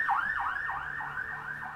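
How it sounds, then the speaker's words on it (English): A siren on a loud, busy street wails in quick repeating rise-and-fall sweeps, fairly close and strong over low traffic rumble, with no voices. "I think this is the second or third time I've heard a siren going through."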